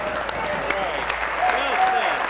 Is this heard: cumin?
no